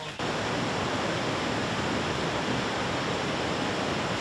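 Huangguoshu waterfall in Guizhou, China, one of the largest in Asia, roaring as a steady, dense, full-bodied wash of falling water that holds without a break.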